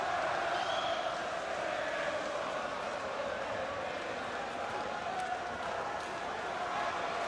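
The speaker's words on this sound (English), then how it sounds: "The chants in the background are for Tony Bellew." A boxing arena crowd chanting for Tony Bellew during his fight with Nathan Cleverly, heard as a dense, steady roar of many voices filling the background without a break, with a commentator speaking over it.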